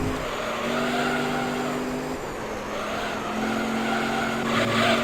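Race car braking hard in Gran Turismo 3: A-Spec, a steady engine drone with a sustained tire squeal and pitch drop as it slows, loud and close, with no talking.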